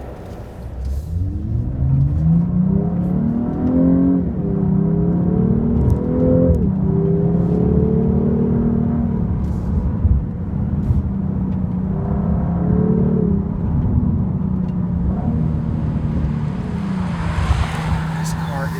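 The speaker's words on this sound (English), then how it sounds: "Sexy exhaust note." A high-torque car with an 8-speed transmission revs hard, its exhaust note rising and falling in repeated pulls, loud and close, with a voice talking over parts of it.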